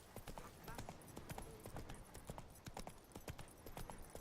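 A horse in The Witcher 3 trots along in steady, rhythmic clip-clop hoofbeats, close and continuous, with game ambience filling the background.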